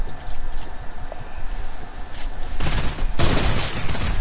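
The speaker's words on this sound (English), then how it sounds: "Minigun spam." A minigun spins and fires in an online shooter match, a dense, continuous crackle of rapid shots with distant gunfire around it, intensifying toward the end.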